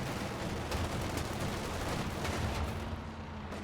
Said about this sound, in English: Pack gun's about to open up. It's probably going to get one shot off on here.